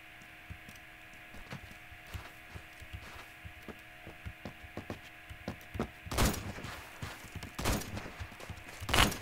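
Video-game gunfire over a steady electronic hum: a string of faint rapid shots, then louder, closer bursts toward the end, with no voices.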